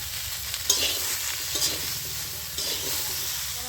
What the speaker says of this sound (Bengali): তো সবজিটা আমি ভালো করে কষে নিচ্ছি, কষে আমি নামিয়ে নেব।